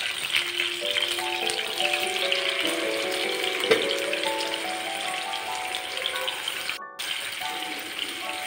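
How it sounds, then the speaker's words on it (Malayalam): Fish sizzling in hot oil in a pan with curry leaves, a steady broadband frying hiss that holds loud and even throughout with no talking. "അപ്പോൾ നമ്മളിതിലേക്ക് കറിവേപ്പില ഇട്ട് കൊടുക്കുകയാണേ. അതിനുശേഷം നമ്മൾ മീൻ ഓരോന്നായിട്ട് ഇട്ട് കൊടുക്കുക."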